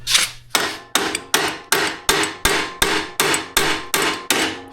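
Eleven sharp, evenly spaced hammer blows strike a stuck part on a Yamaha Terrapro PTO mower, loud and close with no talk.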